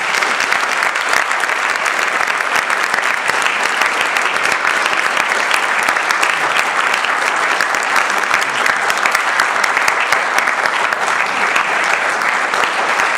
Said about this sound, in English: can everybody please give a round of applause to my panel?